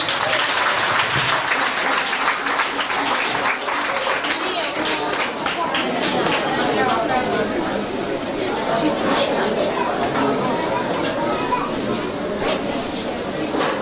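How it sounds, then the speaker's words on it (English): A crowd at a primary school induction ceremony applauds the students, loud continuous clapping mixed with lively chatter and children's voices throughout, close and busy. "Could you please give the students a round of applause?"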